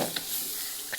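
Kottappayar beans frying in a pan, a soft, steady sizzle with faint stirring scrapes, quiet and close.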